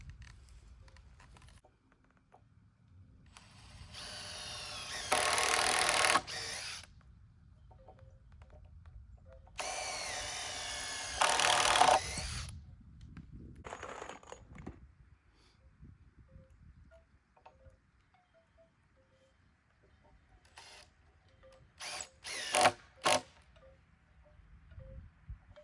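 A power drill drives deck screws into old seasoned wood for a raised garden bed, with two long whirring runs separated by quiet, then a few short bursts later, close up with no talking.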